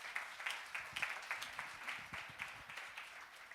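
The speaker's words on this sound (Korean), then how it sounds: "우리 박수 한번 쳐주시죠." An audience claps together at a church lecture, a brief burst of applause with rhythmic, fairly faint clapping.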